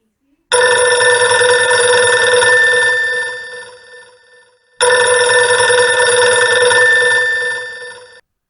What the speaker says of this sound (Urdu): یہ کالے رنگ کا وہ ٹیلی فون تھا جو دلجیت سنگھ کی خوابگاہ میں دھرا تھا اور جس پر صرف ایمرجنسی کال ہی آیا کرتی تھی